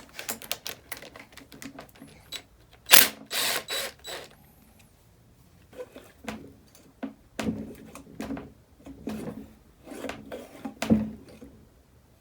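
Metallic clicks, knocks and rattles come from working a sprocket loose on a Honda XR250L motorcycle engine during a teardown, irregular close-up mechanical taps with brief louder clanks.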